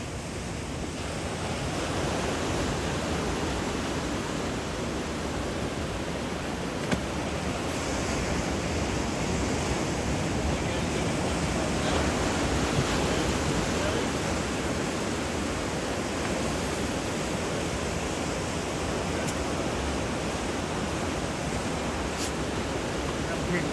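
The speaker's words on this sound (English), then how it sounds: "Some really nice waves over there this morning." Ocean surf breaks on a beach at low tide, a steady, wide wash of roaring water heard from some distance with no clear pauses.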